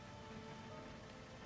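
Rain falls steadily in the game Love and Deepspace, a soft, even hiss of dense drops with no breaks, quiet and unchanging throughout.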